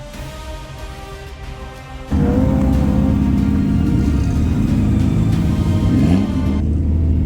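A drift car's engine drones steadily at first, then jumps abruptly into a louder, sustained high-rev roar held with the pedal to the floor, close and continuous before easing slightly near the end.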